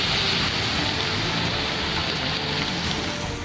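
Heavy rain pours steadily over Patna, a dense, loud, unbroken hiss of water falling on surfaces with no voices or pauses.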